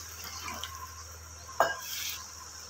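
Water is poured into a pot of simmering moong dal curry, a soft liquid splash and trickle over a low background hum, with a brief louder clunk midway.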